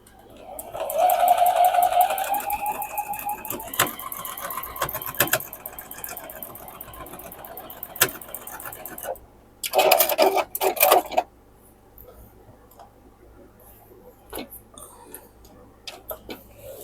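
Sewing machine stitching seams on a modern quilt block, running steadily for several seconds, then stopping, followed by a short burst of clicks and handling noise.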